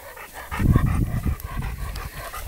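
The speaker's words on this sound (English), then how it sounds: "So, my dog is a Roddy, a Rottweiler, and the Great Dane is my brother's dog." A Rottweiler or Great Dane pants in quick, breathy rhythmic huffs close by, loud and steady throughout with no talking.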